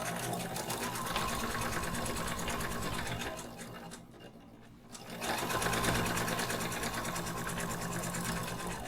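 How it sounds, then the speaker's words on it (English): A sewing machine stitches a fabric side piece onto a shoulder bag at a quarter-inch seam, running as a close, steady whir that briefly slows and pauses mid-way before resuming at full speed. "stitch with 1/4 inch seam allowance"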